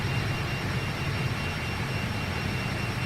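Fokker 28 jet engines roar steadily at takeoff power in a flight simulator game, a loud, unbroken broadband rush with a low rumble underneath, with no voices.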